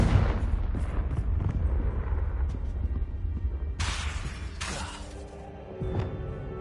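A Confringo fire spell explodes in Hogwarts Legacy, a loud booming blast with crackling shatter and debris, followed by further bursts and rumbling impacts.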